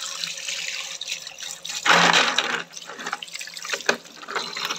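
Water runs from a tap over vegetables being washed in a sink. The splashing is steady and close, and it gets louder for a moment near the middle.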